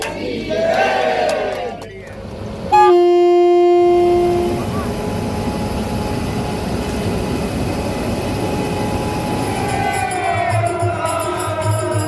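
A special pilgrim passenger train departs a station in Amravati bound for Pandharpur, its horn sounding a long steady tone, then continuous rumbling rail noise with crowd murmur and voices throughout.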